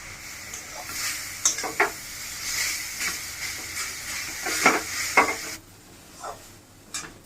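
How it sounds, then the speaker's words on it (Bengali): Pumpkin greens sizzle and fry in a pan, with a steady hiss broken by repeated scraping stirs of a spatula, close and moderately loud, no voices. "আমার কুমড়া শাকটা ভাজা হয়ে গেছে, আমি এখন নামাই নেব।"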